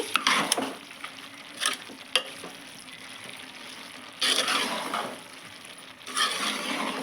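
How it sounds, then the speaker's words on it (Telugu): Cabbage egg curry is stirred in a pan, with scraping strokes in bursts over a soft, continuous sizzle, close up and with no talking. "ఒకసారి కలిపేద్దామండి."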